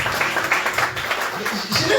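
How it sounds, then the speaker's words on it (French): Applause from guests at a wedding ceremony, a steady crackle of clapping across the whole stretch, fairly close and mixed with murmuring voices. "On va applaudir."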